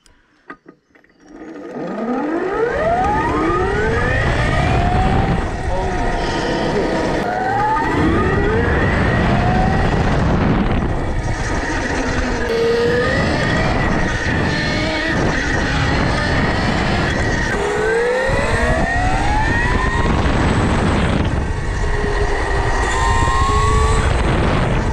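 A DIY electric supermoto built from a Chinese kit, ridden in fast mode: a loud, rising and falling motor whine that sweeps up repeatedly as it accelerates over steady road and wind noise.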